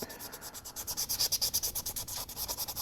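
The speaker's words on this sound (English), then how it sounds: "I'm just making the sanding scratches smaller so that mold line is gone" Super fine sandpaper rubs rhythmically over the mold line of a 1/8 scale resin figure, a steady close run of quick back-and-forth strokes, light and dry, with no voices.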